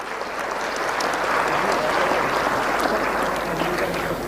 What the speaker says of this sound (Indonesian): Berikan aplaus untuk semuanya dulu.